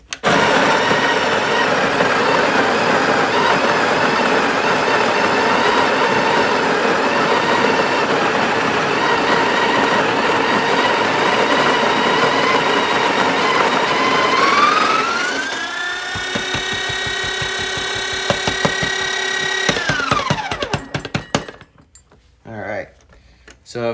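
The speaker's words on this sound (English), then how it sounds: "So we're just going to go ahead and grind the beans." Breville espresso machine's built-in grinder grinding coffee beans on setting 8, a loud steady mechanical whir that rises in pitch, holds, then winds down and stops, followed by a few small clicks.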